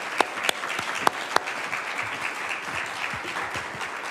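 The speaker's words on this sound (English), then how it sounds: "One more round of applause," Lecture audience applauding at a refugee film festival evening, a dense steady patter of many hands with a few sharp louder claps near the start, sustained throughout.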